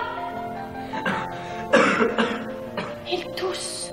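Several rough coughs break out in quick succession over a sustained, musical background of voices.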